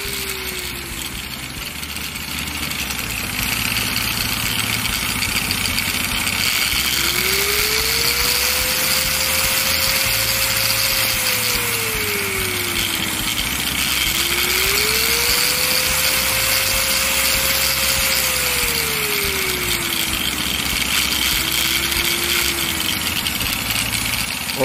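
An ordinary angle grinder modified for variable speed runs slow, its close motor whine repeatedly climbing and sinking in pitch over a steady background hum, with no one talking.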